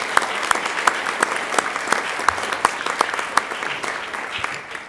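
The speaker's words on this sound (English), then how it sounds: "just a round of applause for those task force members here." Audience at a city board of mayor and aldermen meeting applauding task force members, a moderate round of scattered clapping heard from across the room, steady for several seconds before thinning out.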